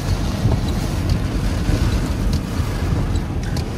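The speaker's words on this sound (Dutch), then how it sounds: "De wind waait ook heel hard." Strong wind blowing outdoors in Suriname, a loud continuous low roar buffeting the microphone throughout, with no speech.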